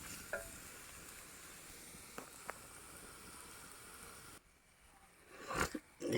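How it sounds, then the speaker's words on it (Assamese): Chicken meat fries in oil in a pot over an outdoor wood fire with a faint, steady sizzle. It drops away partway through, and a few louder clatters and scrapes follow near the end. "এয়া মই মাংসখিনি তেলত ভাজি আছোঁ"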